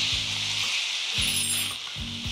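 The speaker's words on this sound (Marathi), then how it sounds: "आता हे सगळं 1 मिनिटभर छान परतून घ्यायचं," Melon seeds and cashews sizzle as they fry in hot oil, a steady bright crackle throughout with soft stirring thumps in the pan recurring about every second.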